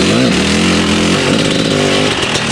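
A Kawasaki KDX250 two-stroke dirt bike engine, just after a carburetor needle adjustment, revs loud and close with a steady, buzzing, rising-and-falling tone, with no talking over it.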